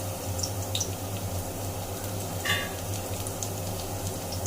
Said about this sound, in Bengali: শুটকির তরকারির জন্য আমি আগে রসুনটাকে একটু ভাজা ভাজা করে নিলাম